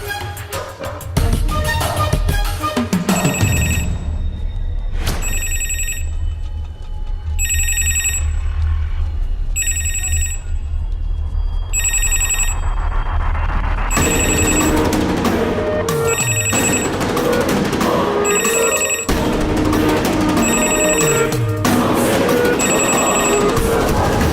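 A public telephone booth phone bell rings in regular repeated bursts, loud and close, over a rumbling background that thickens into busier sound partway through.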